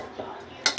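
A metal ladle set down beside a cooking pot, giving two quick sharp clinks at the very end after a quiet moment.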